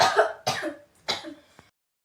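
Three harsh coughs from a woman with a cough lasting many days, in quick succession, close and loud, followed by a faint click, then silence.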